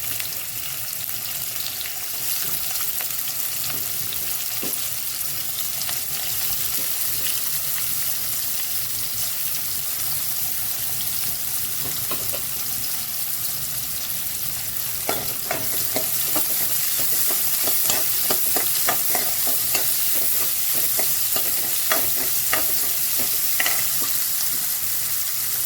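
Mustard and cumin seeds with chopped onions frying in hot oil for a bachelor-style bele saaru, a steady close sizzle running throughout with occasional stirring scrapes and crackles growing busier in the second half; no talking.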